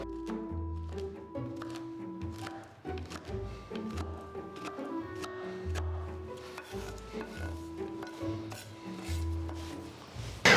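A knife chops mint crunch candy repeatedly on a board into chunks, crunchy cuts and scraping strokes in an uneven rhythm, close up and fairly loud.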